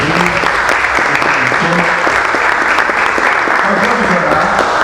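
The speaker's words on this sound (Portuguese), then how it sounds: "Então você pode dar um aplauso lá no seu programa." Loud, dense applause from an audience gathered for prayer and worship music at the São Paulo state legislative assembly, sustained clapping filling the whole stretch with voices mixed underneath.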